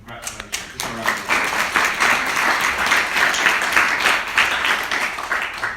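Audience at a nature debate at a bird fair breaks into applause, scattered claps at first building quickly into steady, fairly loud clapping that carries on alone for several seconds.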